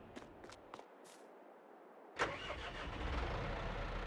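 A John Deere tractor in the video game Farming Simulator 22 cranks and fires up, its engine settling into a steady, loud running rumble after a few faint clicks and a short silence.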